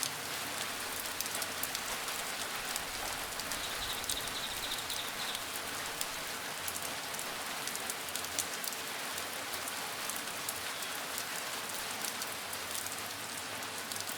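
Gentle rain falls steadily outside a quiet room, a soft, even hiss of drops with no breaks and no voices.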